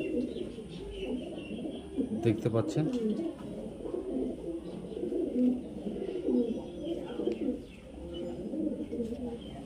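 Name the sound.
Madras pigeon cooing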